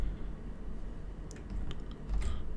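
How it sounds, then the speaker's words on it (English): Typing on a computer keyboard produces a brief run of light, close key clicks over a low, steady room hum. "Just type in the word checked."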